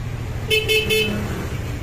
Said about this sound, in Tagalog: Pwede magamit yung stock horn, pwede magamit yung Bosch Europa.